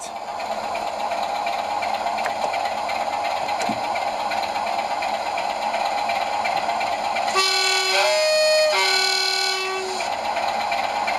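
A model railway locomotive runs along the track with a steady continuous mechanical hum, joined near the end by a couple of tonal horn blasts, close and alone without talk.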